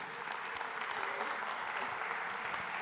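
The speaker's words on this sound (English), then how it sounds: "please give a warm round of applause to Joy Blundell." Audience applause at the Ekklesia 2025 gathering, a steady broad wash of clapping welcoming a speaker to the stage, moderately quiet and continuous for a few seconds with no talk over it.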